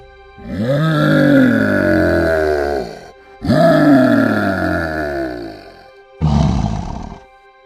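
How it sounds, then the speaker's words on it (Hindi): Three long, deep roaring calls from a lion in a jungle, each a loud, sustained growl with falling pitch, the last one shorter, separated by brief silences. "यह तो किसी शेर की आवाज लग रही है।"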